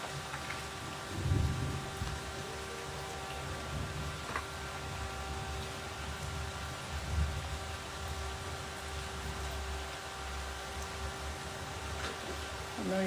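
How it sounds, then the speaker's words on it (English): Steady rain falls outdoors as a constant soft hiss of drops, with a faint low rumble and no voices heard. "I know y'all can hear the rain."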